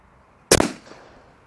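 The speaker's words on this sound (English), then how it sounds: "I'm going to shoot directly in the middle of the can." .30 caliber Gtac airgun fired through the middle of a can: a single sharp, loud crack that cuts the quiet and trails off in a short, ringing decay.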